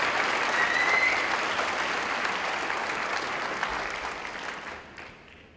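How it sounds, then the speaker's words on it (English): A graduation audience at a Clintondale Virtual Academy ceremony breaks into dense, sustained applause that holds steady for several seconds, then gradually thins and fades away at the end. "let's have a round of applause for Clintondale School."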